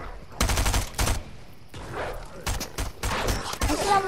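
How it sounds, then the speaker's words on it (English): Submachine gun fire in the Fortnite video game, a few loud rapid bursts separated by short pauses, with brief background voice chat nearby. "shoot, using the submachine gun"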